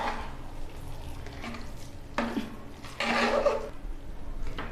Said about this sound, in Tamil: இப்போ இதை நல்லா கிண்டி விட்டுருவோம்.